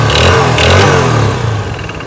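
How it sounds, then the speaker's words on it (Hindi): Motorcycle engine with a damaged crank, loud and close, revving hard with a clattering rattle before the revs ease off toward idle. "और फिर से मैं क्रैंक की आवाज आपको अच्छी तरीके सुनवा देता हूँ"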